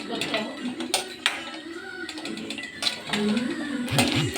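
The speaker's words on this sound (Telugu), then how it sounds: "జీడిపప్పు ఇలా ఫ్రై చేసుకోవాలి" Cashew nuts being fried and stirred in a pan for a paneer curry: steady clinks and scrapes of a utensil against metal, with a low background of voice-like sound running underneath.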